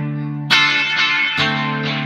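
An electric guitar played through an echo pedal with feedback repeats: two bright, sustained chords struck about a second apart, each ringing on with dense repeating tails, loud and alone.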